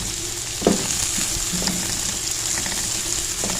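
Red chilies and masala fry gently in oil on a low flame, a soft continuous sizzle with a couple of small clinks or stirs.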